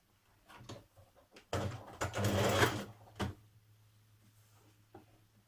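A domestic sewing machine stitches the neckband of a New Look 6086 top, a short burst of fast mechanical whirring after a few light clicks, with a steady low hum throughout.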